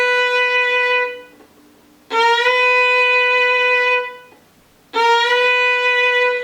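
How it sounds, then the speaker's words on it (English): Fiddle notes bowed three times, each starting just below the A and sliding up to settle on it, sustained bright tones separated by short pauses, played alone and fairly loud. "I'm going to start down below the A1 and I'm going to slide up to it"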